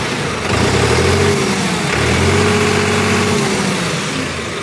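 New Holland 3630 Special Edition tractor engine revving twice, each burst rising in pitch then easing back to a steady idle, close and loud with no talk.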